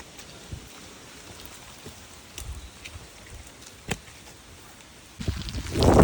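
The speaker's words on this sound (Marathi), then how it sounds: "पाऊस सुरू झालेला आहे." Heavy monsoon rain falls across the Masai plateau near Panhala at night. It is a steady broadband hiss with scattered drop impacts, and it swells sharply louder in the last second.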